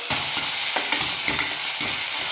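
Finely chopped onion sautés in a hot pan for a palak and peas gravy, a loud dense sizzle with rhythmic spatula stirring strokes every half second or so, close up and without speech.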